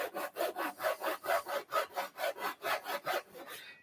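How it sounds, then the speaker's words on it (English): Hand rip saw cutting through wood for a side table, its coarse teeth rasping in a steady push-pull rhythm of about a dozen even strokes, close and clear with no talk. "Going back to our saw. So I'll rip saw again back into there."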